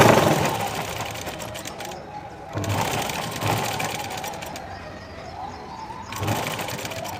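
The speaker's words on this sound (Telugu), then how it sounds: "ఈ నెక్ మీదే పడేటట్టు మళ్ళీ కుట్టేసుకుందాం" A sewing machine runs in bursts while topstitching a dress neckline on an Aliya cut dress, the motor whirring steadily for a couple of seconds at a time with short pauses between runs, close and fairly loud.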